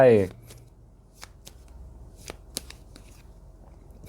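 Tarot cards are handled up close: a brief burst of shuffling at the start, then scattered soft flicks and taps as cards are drawn and laid down in an otherwise quiet room.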